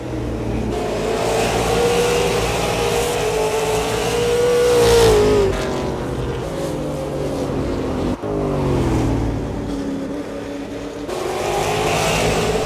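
A race car engine roars at Five Flags Speedway during a Super Late Model race, loud and sustained, with pitch rising and falling as the car accelerates and backs off through the laps, close and without clear talk.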